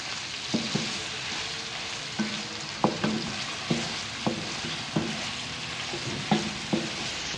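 Half a kilo of boneless chicken cubes fry in a pan with a steady, soft sizzle, while a spoon stirs them in about a dozen sharp scraping knocks spaced through the clip.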